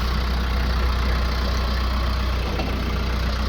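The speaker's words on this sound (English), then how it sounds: "You need to start the tractor," A Branson compact tractor's diesel engine idles steadily, a continuous low rumble at an even level with no revving, close to the listener and alone without talk.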